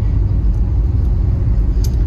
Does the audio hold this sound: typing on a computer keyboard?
no